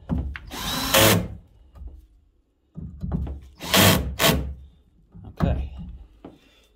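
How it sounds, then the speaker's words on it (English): Power drill driving chrome metal fasteners into a classic boat's helm, several short whirring bursts of rising and falling motor pitch with pauses between, close and loud. "now I will up the torque setting a bit and snug these down"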